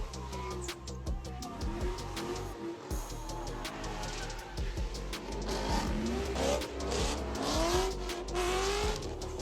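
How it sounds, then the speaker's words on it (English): Two cars drift side by side along a road, their engines revving and tires squealing in long, overlapping skids that build in intensity as they swap positions mid-slide. "These 2 guys do an amazing job of being side by side and changing positions mid-drift."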